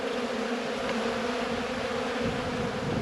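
Honey bees drone steadily at an open hive during a late-season inspection, a dense continuous buzz of many insects filling the whole stretch at an even level with no voices.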